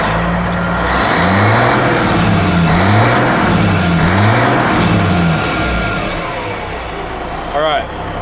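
A 1985 Freightliner FLC truck with its Jake brake engaging off throttle, a loud close rhythmic engine rumble with pulsing, undulating tone, tapering and ending in a brief rising squeal.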